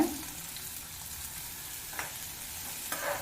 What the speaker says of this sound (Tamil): எண்ணெய் சூடானது அதில் பொடியாக கட் பண்ண ஆறு பல் பூண்டை சேர்த்துக்கோங்க அது கூடவே ரெண்டு சின்ன வெங்காயத்தை பொடியாக கட் பண்ணி அதை சேர்த்துக்கோங்க